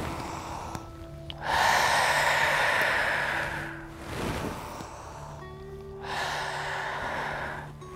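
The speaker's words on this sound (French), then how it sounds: "on inspire vers le haut, on expire vers le bas" Slow, deep breaths during a yoga exercise come in two long inhale-exhale cycles. They are soft and close, with a quieter breath in between and no talking.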